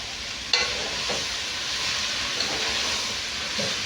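Mixed vegetables sizzling steadily in a hot frying pan with soy sauce, a broad hiss throughout, punctuated by a few scraping knocks of a utensil stirring them, no talking.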